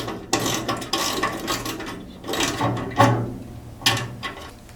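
Socket ratchet tightening a nut on a bonnet shock of a Triumph Spitfire 1500, a few bursts of close mechanical clicking and ratcheting with short pauses between strokes.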